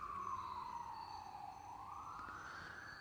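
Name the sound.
distant emergency vehicle siren at night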